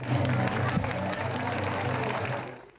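An audience applauding for child actor Ege Tanman of the film Babam ve Oğlum, with dense, steady clapping and crowd murmur throughout, close and full before tapering off at the very end.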